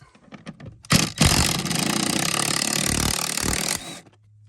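A rattling, continuous burst from an impact gun spinning out a seatbelt anchor bolt in a Ford Falcon BA/BF XR6, loud and close for about three seconds after a couple of sharp knocks, then stopping abruptly.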